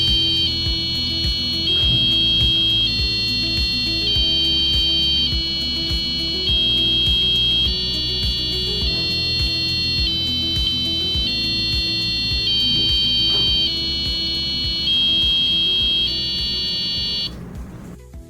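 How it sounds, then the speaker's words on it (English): A shrill passive electronic buzzer on a smart car kit beeps out Twinkle Twinkle Little Star, note after note in steady rhythm, loud and continuous until it cuts off near the end. "The melody of Twinkle Twinkle Little Star is coming out of the buzzer."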